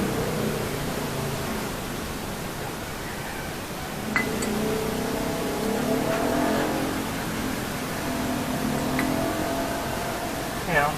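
GY6 Rusi scooter engine running with a worn pulley and loose sliders, a steady broadband roar with occasional sharp knocks and clacks, close and fairly loud.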